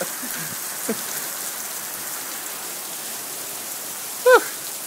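Heavy rain from a summer storm in Brisbane pours steadily under a house, a dense continuous hiss of drops on surfaces, with a brief faint voice sound near the end.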